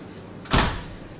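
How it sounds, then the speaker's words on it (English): A single door closes with one short dull thud against a low quiet room background, with no speech. "And I'll close the door."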